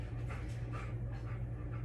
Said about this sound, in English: You can hear Indy panting